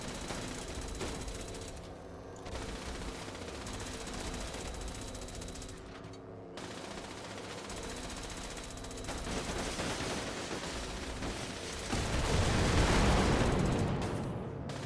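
Sustained enemy gunfire in Fallout 76, steady bursts of automatic shots over a continuous game soundscape, swelling louder and denser toward the end.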